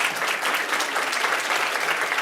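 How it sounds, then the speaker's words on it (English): An audience at an informational event on student visas for Spain breaks into steady, dense applause that fills the whole moment at an even level, with no voices over it. "So I think we need a big applause to him."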